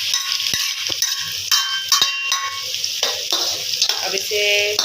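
Four onions added to a pan for bhindi chicken, a loud close sizzle with stirring and clinks of a utensil, no talk.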